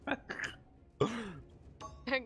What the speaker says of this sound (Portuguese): Tá gasgando.